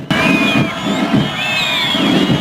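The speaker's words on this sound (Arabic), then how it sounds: "طبعا سمعنا صوت الجماهير" A large crowd at an Algerian military parade cheers and shouts continuously, with high-pitched whoops and whistles rising over a loud, dense roar of voices.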